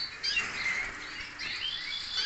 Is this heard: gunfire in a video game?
no